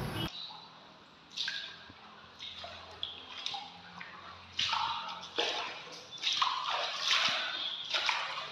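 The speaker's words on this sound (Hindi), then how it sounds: "बरसात का पानी टपकने से अध्यापकों को मजबूर होकर विद्यार्थियों की छुट्टी करनी पड़ती है।" Rainwater leaks through the roof of a dilapidated school building, with scattered drips, splashes and sloshing water arriving in irregular bursts over several seconds against a dull indoor background.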